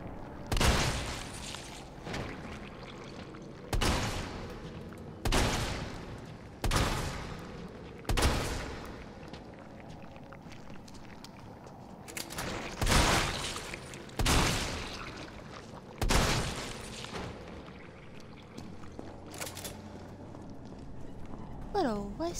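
A shotgun in the game Resident Evil 3 Remake fires about ten loud, booming blasts at uneven intervals, each shot ringing out over quieter ambient game noise.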